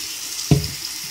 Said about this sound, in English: run it under the water